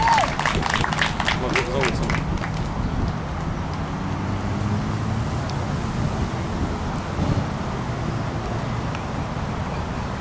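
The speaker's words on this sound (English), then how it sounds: "Rabbi Weiss, let's give a round of applause" An outdoor crowd applauds a rabbi at a rally in Clifton, New Jersey. Sharp claps ring out in the first couple of seconds, then fade into wind buffeting the microphone, broad rumble and murmuring voices.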